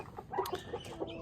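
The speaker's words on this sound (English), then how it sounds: "one of my turkeys is in here" A turkey inside a chicken coop gives several short clucking calls close by, mixed with quieter fowl sounds and light shuffling, with no talking.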